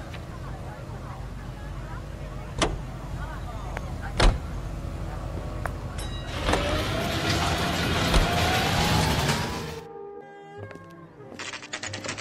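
A car in L.A. Noire, an open-world 1940s Los Angeles crime game, with a door thump or two and engine rumble that swells as the car pulls away, then a sudden cut to quieter ambience.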